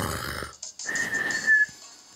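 A sleeping Pokémon snores in Pokémon Ultra Moon, a short soft breathy inhale followed by a longer whistling exhale tone, quiet and alone.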